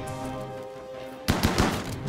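Gunfire from the video game RimWorld: after a quiet humming stretch, a rapid burst of several loud, close shots erupts and continues in quick succession.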